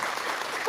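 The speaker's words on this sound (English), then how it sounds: "we'll give them a little applause here" A brief burst of studio applause, dense and steady for under a second, with no talk over it.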